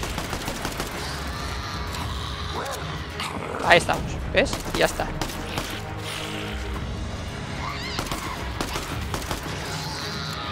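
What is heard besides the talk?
gunfire shooting zombies in a video game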